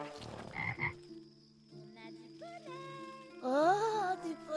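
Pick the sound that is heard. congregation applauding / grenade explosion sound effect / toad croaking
toad croaking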